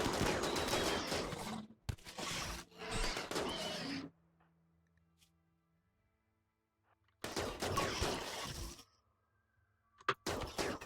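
Gunfire in the video game Rimworld, arriving as several dense bursts of rapid shots separated by quiet gaps, fairly faint overall, with no talking.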